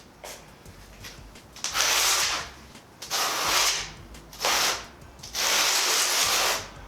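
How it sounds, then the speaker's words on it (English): A notched trowel scrapes and spreads thin-set tile mortar in four separate gritty strokes, each lasting about a second, loud and close, with short quiet gaps between them. "You can simply place this within the ridges and continue to trowel."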